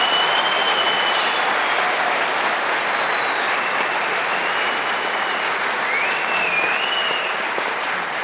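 A studio audience on a Turkish TV talk show applauds a guest with loud, dense, continuous clapping that runs steadily from start to finish.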